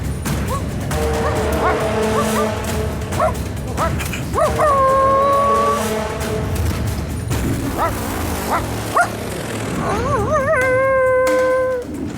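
A dog howls in long, wavering drawn-out cries, several in a row with short yips between, close by and fairly loud against a low rumbling background.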